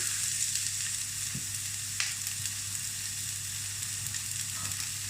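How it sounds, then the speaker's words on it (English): Steady sizzling of onions frying in a pan, a constant crackling hiss with a low hum beneath, continuous and close. "I'm just going to pop that into the pan, and it's starting to sizzle away lovely"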